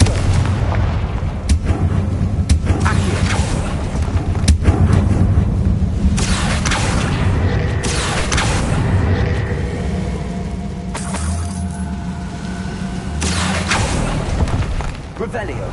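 Confringo fire-spell blasts in a Hogwarts video game, dense booming explosions and crackling bursts layered over a continuous loud rumble, with several sharp impacts throughout.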